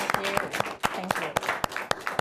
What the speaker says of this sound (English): Big round of applause for Rhonda for being here.